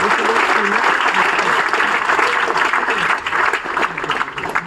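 An audience at a large seminar gathering bursts into loud, sustained applause that stays dense and even before tapering slightly toward the end, with a voice faintly mixed in.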